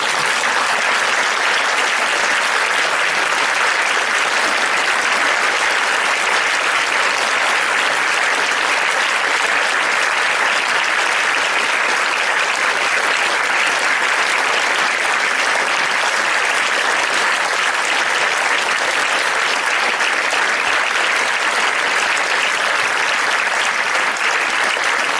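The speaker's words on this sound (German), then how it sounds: "Es ist ein riesengroßer Applaus für diesen tollen Vortrag als Dankeschön" A large lecture audience in Vienna gives long, sustained applause after a talk by Rupert Sheldrake, dense even clapping from many hands filling the hall without letup.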